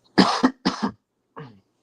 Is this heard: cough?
yes